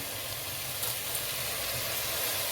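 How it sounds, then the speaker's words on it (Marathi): Peas, green beans, cauliflower and carrot tumble into a hot pan with tomato while cooking a vegetable pulao, giving a steady, close hiss of sizzling oil that runs unbroken throughout. "याच्यामध्ये टाकणार आहे भाज्या, वाटाणे, फरसबी, फ्लावर, गाजर"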